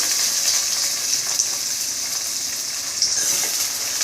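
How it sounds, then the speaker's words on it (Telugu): Chopped onion, green chilli and coriander fry in hot oil for a ridged gourd curry, giving a steady close sizzle that runs through the whole stretch with a few brief crackling pops. "ఇందులోకి మనం ముందుగా కట్ చేసుకున్న ఉల్లిపాయ ముక్కలు పచ్చిమిర్చి కొత్తిమీర కూడా వేసేసుకుందాం"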